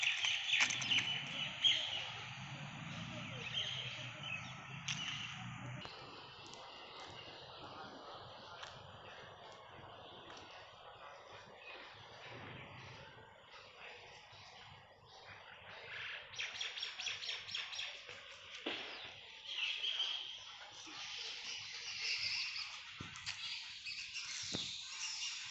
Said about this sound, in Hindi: यहाँ पर कुछ चिड़िया लोग हैं।